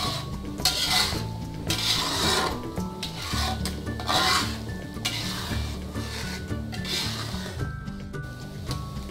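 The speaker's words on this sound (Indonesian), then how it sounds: "Kita aduk-aduk lagi ibu-ibu sampai petisnya agak kental." Petis sauce stirred in a pan until thick, a spoon or spatula scraping and rubbing the pan in repeated rhythmic strokes, close and fairly loud, over a soft background of music.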